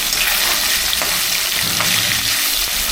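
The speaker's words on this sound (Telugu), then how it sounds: "పచ్చి వాసన పోయే వరకు వేయించుకోవాలి" Fish pieces fry in hot oil in a pan for a fish gravy, a loud, dense, continuous sizzle throughout with faint bubbling underneath.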